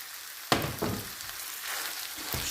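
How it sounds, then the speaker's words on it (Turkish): Minced meat dropped into a hot frying pan with sautéed onions erupts into a sudden loud sizzle, then crackles steadily with a few stirring scrapes, close up and without talk. "Hemen kıymamızı ilave edelim."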